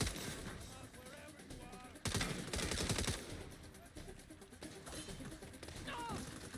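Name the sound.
gunfire in a video game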